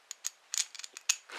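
Screws being driven into an internal rotor ignition, heard as a short run of faint, close ticks and small scraping clicks at an uneven pace, with no speech.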